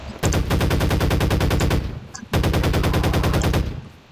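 Rapid automatic gunfire from the video game Garry's Mod comes in two loud, sustained bursts of fast, evenly spaced shots, separated by a short pause.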